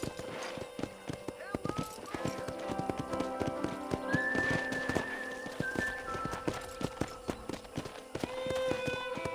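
Horse hooves clip-clop in a steady run with an occasional whinny in Red Dead Redemption, set against a busy musical background and game effects.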